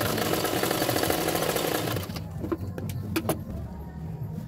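A sewing machine runs steadily while a blouse sleeve is stitched on, its dense motor whir continuous for about two seconds before stopping, leaving a few sharp clicks and handling knocks in a quieter room.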